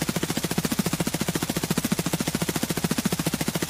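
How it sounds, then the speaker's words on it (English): Sustained fully automatic fire from an HK rifle in a shooter game, a rapid, even stream of loud shots with no breaks, close and alone. "All right, let's see what the HK is like."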